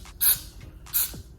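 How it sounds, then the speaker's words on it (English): Two short hissing bursts of Got To Be Glue spray aimed into a lace front wig hairline, close and fairly loud, with quiet handling noise between them. "I'm gonna take my Got To Be Glue spray and spray it in the hairline so I can get the wig to stay down."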